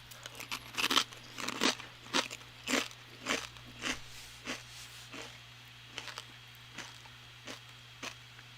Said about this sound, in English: As a crunchy chip.